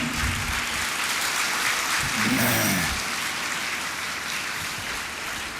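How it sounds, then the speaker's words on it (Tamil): Steady audience applause in a hall at a school excellence celebration, continuous clapping throughout with a brief low voice or tone rising under it midway. "இந்த கைத்தட்டல் போதாது"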